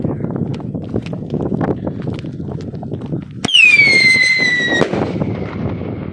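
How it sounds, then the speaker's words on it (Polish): Outdoor crackling and rustling is cut by a sharp bang from a small firework, which then emits a loud falling whistle-like squeal that lasts about a second before ending with a second pop. "Mała, hukowa, piszcząca zabaweczka."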